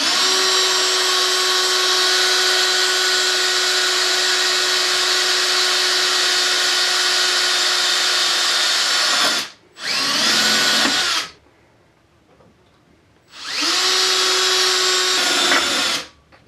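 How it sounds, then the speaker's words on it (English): Power drill with a 1/8 inch bit boring into a broken bolt, a loud steady high whine for about nine seconds, then a short burst, a pause, and another sustained run. "I just got a 1/8 drill bit. We'll recenter this one, give her another go."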